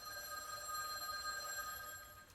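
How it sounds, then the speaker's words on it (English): A telephone rings continuously with a steady electronic bell tone inside a house, sounding alone at moderate volume for the whole moment with no talk. "Why wouldn't someone answer the phone for you?"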